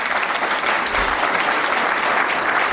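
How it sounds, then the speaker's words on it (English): An audience at an energy symposium in Pakistan gives a round of applause, a thick, even wash of many hands clapping close and continuous throughout. "a huge round of applause for Asfar and the entire team."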